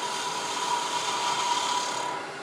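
A steady, close rasping scrape of a lathe tool making a light cut on a spinning wooden Christmas tree ornament, continuous and even, trailing off slightly at the end.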